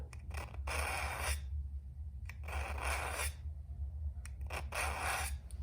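Three long rasping pulls of a kitchen knife drawn through the notch of a knife sharpener, each stroke lasting about a second with short pauses between, close and fairly loud over a low steady hum.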